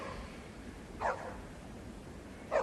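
A dog, Lassie the famous movie dog, gives two short barks about one and a half seconds apart over a low background hiss, at moderate distance.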